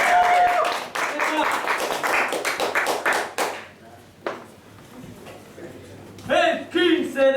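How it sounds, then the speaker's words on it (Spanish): An audience claps for a poet at a live reading. The applause is dense and lively for about three seconds, then thins to scattered claps, and speech follows. "Un aplauso para Jacobo."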